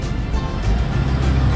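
A car engine revs up to about 2000 RPM in first gear, the shift point, a steady low droning hum that swells slightly louder midway, close and continuous.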